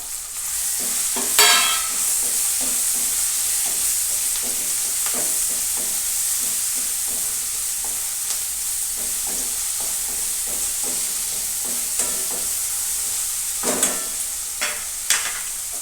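Onions frying in a pan for a sponge gourd curry while tomatoes, sponge gourd and chilies go in, a constant sizzle and hiss broken by repeated spoon scrapes and stirring clatters, close by.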